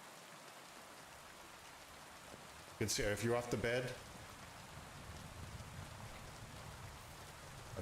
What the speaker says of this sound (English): I'm yelling over top of the rain here.